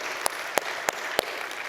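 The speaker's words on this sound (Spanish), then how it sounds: "Dale un fuerte aplauso a Él." A church audience at a sermon applauds, a steady crowd clapping with several sharp, louder claps standing out in an even rhythm close by.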